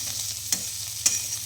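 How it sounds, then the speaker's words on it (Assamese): Neem leaves fry in a pan with a steady, close sizzle, broken by two quick scraping stirs. "নিম তিতা ফ্ৰাই কৰি আছোঁ।"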